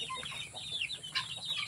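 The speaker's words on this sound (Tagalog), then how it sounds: "ito na ang mga manok, nakapagpakain na tayo" Chickens cluck and chirp in short, soft bursts in a backyard coop, close and fairly quiet, with no talk over them.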